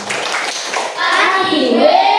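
Schoolchildren in a classroom clapping a rhythmic group cheer, bright hand claps mixed with children's voices calling out, close and lively throughout.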